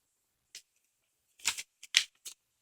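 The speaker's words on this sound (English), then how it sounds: "and then I cut off the edge all the way across the edge like this" Paper cut with scissors for a handmade mini album: a few crisp snips and slicing strokes, close and isolated, with quiet gaps between them.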